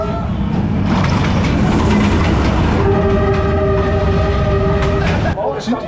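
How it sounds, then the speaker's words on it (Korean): A train rolls past at very close range on Hanoi's narrow train street, a loud continuous roar with wheel clatter and a sustained horn, while onlookers' voices mix in. "진짜 기차가 지나가는구나."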